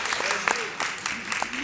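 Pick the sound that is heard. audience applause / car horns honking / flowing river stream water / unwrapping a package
audience applause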